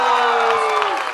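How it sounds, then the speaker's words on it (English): Audience applause and cheering at a media event with actress Janhvi Kapoor, a loud, continuous wash of clapping and crowd noise with a sustained voice or tone sliding down near the end. "a big round of applause"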